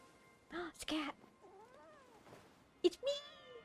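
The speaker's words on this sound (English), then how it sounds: "It's a cat!" A cat in the video game Wuthering Waves gives several close meows and a drawn-out caterwaul, in separate bursts with quiet gaps between them.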